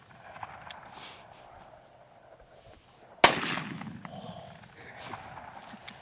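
A single sharp, loud gunshot from a .44 Magnum revolver rings out once, with quieter ambient noise and faint movement before and after the blast.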